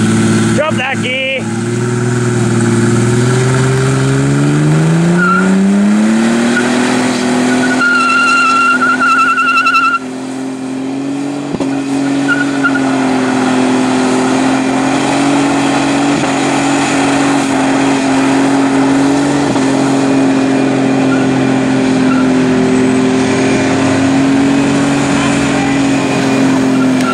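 A car engine revs loudly, climbing in pitch then dropping through a gear change before holding a strong steady roar at close range, with brief tire squeal and someone speaking over it.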